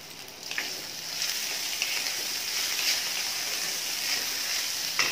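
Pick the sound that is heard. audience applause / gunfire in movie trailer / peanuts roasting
peanuts roasting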